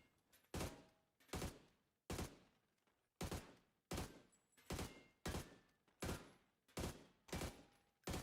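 Gunshots in PUBG, about ten sharp single shots at a steady, unhurried pace of roughly one every three quarters of a second, each with a short decaying tail.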